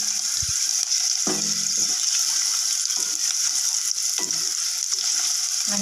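Onions and curry leaves fry in hot oil for mint rice, giving a loud, continuous close sizzle broken by a few scraping stirs.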